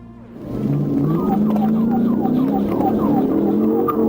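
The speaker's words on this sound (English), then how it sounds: "when the sirens started wailing" Police sirens wail loudly and close by during a high-speed highway chase, the pitch sweeping up and down repeatedly over a rumbling vehicle engine.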